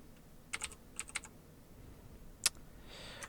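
Scattered keystrokes on a computer keyboard, a few quick clusters of clicks and then a single sharper tap. The typing is quiet and close with no voices.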